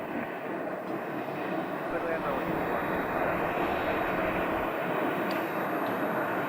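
Flight school plane departing Scottsdale airport, a steady engine drone rising and sustained across the whole stretch, fairly loud against outdoor ambience.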